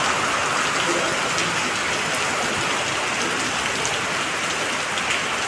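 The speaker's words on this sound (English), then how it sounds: "So it's raining in Bangalore." Steady rain pours down in Bangalore, a dense continuous hiss of drops hitting surfaces, constant and fairly loud with no voices.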